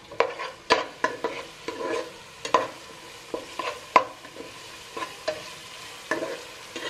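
Bay leaf, cinnamon, cloves and cardamom frying in a pan with a soft sizzle, while a spoon stirs them in repeated scraping knocks at an irregular, fairly quick pace, close and alone.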